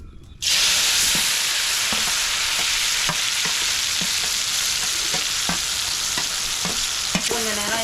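Ground onion, tomato and garlic paste hits hot oil with a sudden loud sizzle, while preparing a spicy dried-fish thokku, then keeps frying steadily, with regular scrapes of a stirring spoon against the pan and no talking.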